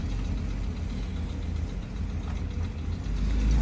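A VR6 engine in a custom wide-body car idles with its exhaust not connected, a loud, rough, continuous low rumble heard up close without any talking.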